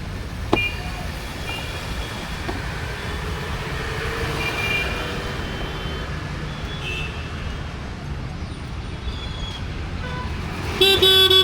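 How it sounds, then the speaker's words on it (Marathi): An auto-rickshaw horn gives a short honk right after repair and another near the end, set against steady traffic and engine noise. "हॉर्नचा आवाज थोडासा वेगळा येतोय."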